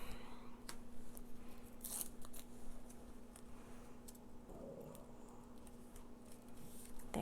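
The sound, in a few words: scissors trimming foam tape on a card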